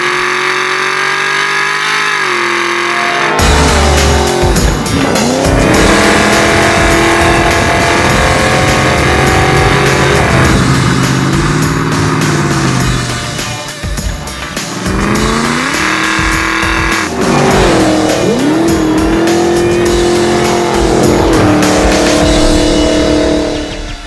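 Supercharged 427 LS in a 1972 Chevy Blazer making 750 horsepower, roaring through repeated hard revs and acceleration with squealing tires, very loud and close, sweeping up and down over about twenty seconds.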